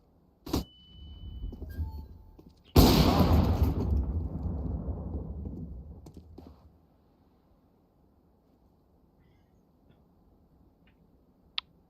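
A flashbang grenade thrown and going off in a tactical shooter game: a sharp click, then a loud close blast that rolls into a long decaying rumble and fades to quiet, with a faint tick at the end.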